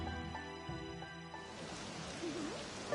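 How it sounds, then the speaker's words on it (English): Rain in a video game, a steady broadband hiss that sets in about halfway through and carries on over a layer of tonal game music, fairly loud and continuous. "Oh, this rain is so annoying. Sounds fake to me."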